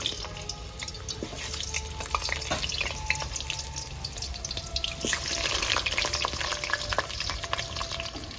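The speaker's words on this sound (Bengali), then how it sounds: "আলু ভেজে নেবো" Diced potatoes frying in a pan, a soft steady sizzle with scattered clinks and faint running-water sounds from a kitchen sink, no talking.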